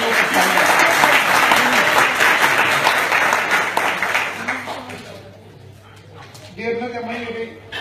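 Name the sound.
audience applause at a poetry gathering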